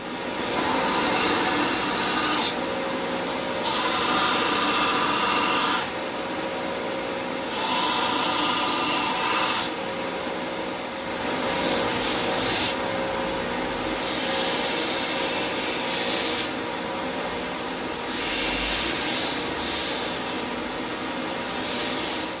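A belt sander grinds a wooden axe handle in repeated passes, a loud abrasive rasp that swells and eases every couple of seconds with short pauses between strokes, with nothing else heard over it.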